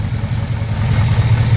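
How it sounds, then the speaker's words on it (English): A 1968 Chevrolet El Camino with a 396 big-block V8 idles steadily after a tune-up, a close, continuous low rumble with a slightly choppy, loping pulse that swells a little toward the end. "Oh, it's idling so nice."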